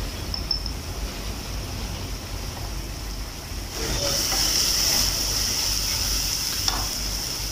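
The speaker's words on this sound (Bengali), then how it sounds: "এখন মশলাগুলো ভালো করে একটু ভুনিয়ে নেব।" Spices sizzling and frying in a pan while being sautéed for a chickpea biryani, a steady close hiss that grows louder partway through, with faint stirring scrapes and no talking.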